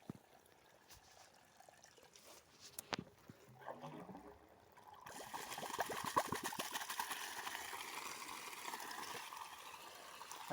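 Water from a Surya 5 HP solar pump on a 250-foot borewell pours through a 2.5-inch pipe, starting as a faint trickle and then bursting into a loud, steady gush halfway through.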